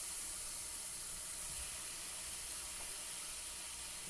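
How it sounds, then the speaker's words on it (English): Food sears in a hot dry pan, giving a steady soft hiss with no breaks and no speech. "I'm going to hit these in a dry pan real quick"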